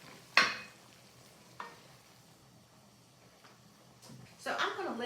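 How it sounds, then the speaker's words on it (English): A spoon stirs Worcestershire sauce into a sloppy joe mixture in a pan, giving a few separate scrapes and clinks spread out among quiet stretches, then a louder burst of stirring and faint sizzle near the end. "Now we're just going to stir it around."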